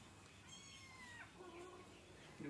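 A faint, soft cat meow rises and falls once or twice against a low background hum, quiet and somewhat distant.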